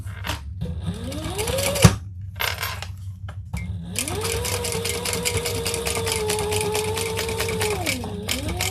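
Sewing machine running steadily while top stitching leather pieces wrong sides together, with a brief start, a sharp clack near two seconds, then a long continuous whirring run after a pause.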